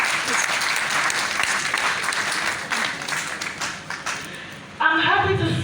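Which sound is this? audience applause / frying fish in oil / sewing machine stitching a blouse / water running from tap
audience applause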